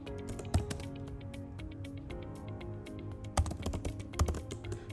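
Typing on a computer keyboard, a steady run of close, crisp key clicks with a few heavier strokes, over a faint low background hum.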